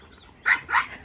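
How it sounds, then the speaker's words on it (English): Standard poodles playing in a garden let out two quick, sharp barks close by, spaced about a quarter second apart over quiet outdoor background. "those are my dogs. Yeah, they're just playing."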